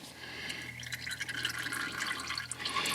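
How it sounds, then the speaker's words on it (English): Oil draining from the oil filter of a 2018-2019 Chevrolet Equinox 1.6L diesel, a faint trickling, dripping liquid stream with soft splashes, steady and quiet throughout. "After you release the pressure on the oil filter, more oil will come out"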